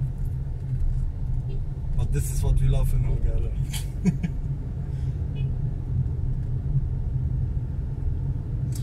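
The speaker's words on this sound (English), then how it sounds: "The traffic is crazy." Busy street traffic in the crowded old town of Dahar, Hurghada, a steady low rumble of nearby cars and engines running throughout, with someone talking over it.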